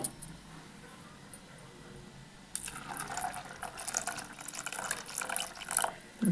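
Water pours from a vessel onto washed sago pearls in a kitchen. After a quiet start it becomes a close, splashing stream that lasts a few seconds.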